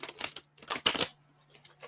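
Oracle cards are shuffled by hand in quick, soft riffling bursts, separated by short pauses, close and fairly quiet.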